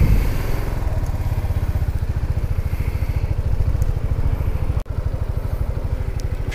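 A BMW C 400X scooter engine idles steadily up close, a continuous low, even putter with a rapid pulsing beat, briefly interrupted once before resuming at the same level.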